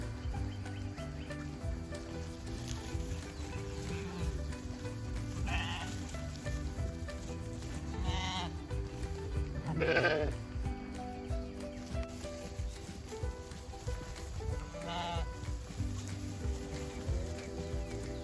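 Several sheep bleat at intervals near a barn over a steady background of continuous noise, with a few louder calls standing out.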